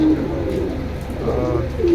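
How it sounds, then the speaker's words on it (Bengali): Pigeon cooing up close, a single male (cock) pigeon of a silver-coloured fancy breed, giving low throaty coos that open and close a short two-second stretch. "অস্থির কি কবুতর এটা"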